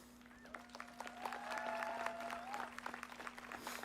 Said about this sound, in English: those same people that cheered for you and helped get you here today are cheering for you again at your commencement